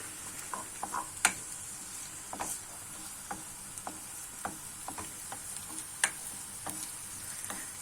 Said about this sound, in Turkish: Şimdi soğanlarımı biraz yağım kızana kadar kavuracağım.